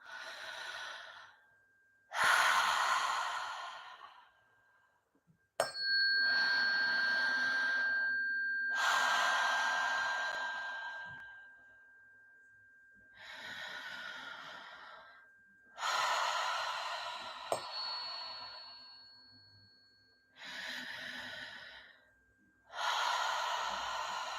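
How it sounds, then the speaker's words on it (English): Deep open-mouth breathing in a guided breathwork session: several long, loud inhales and exhales alternate in a slow, steady rhythm, close and clear, with a faint tone humming underneath. "We're going to do open mouth, inhale, exhale."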